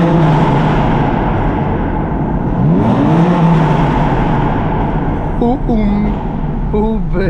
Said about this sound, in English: Do a little rev battle here.